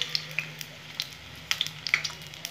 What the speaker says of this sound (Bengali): গ্যাসের ফ্লেমটা মিডিয়াম থেকে একদম লো রেখে আমি ভেজে নেব।